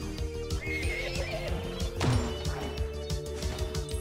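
A horse neighs in the video game Sea of Stars, a short whinny standing out over steady game music and combat thuds, with no talk.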